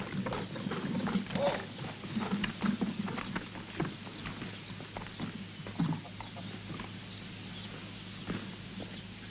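Several horses' hooves clip-clop at a walking pace, irregular and fairly close, over a low steady background hum, with a brief voice at times.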